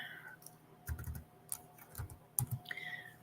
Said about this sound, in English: I cannot type in the morning.